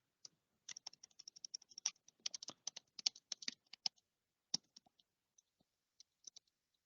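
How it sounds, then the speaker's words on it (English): Someone types a message on a computer keyboard, producing quiet, close, irregular bursts of crisp key clicks with short pauses between them and no talking. "we're going to go here and type our message."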